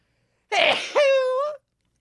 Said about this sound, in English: that mistletoe's making me sneeze